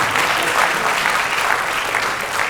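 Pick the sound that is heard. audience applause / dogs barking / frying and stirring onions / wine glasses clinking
audience applause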